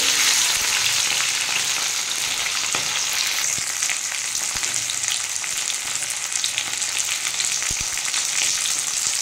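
Broad beans and capsicum fry in hot oil in a pan, making a loud, continuous close-up sizzle and crackle that holds steady throughout.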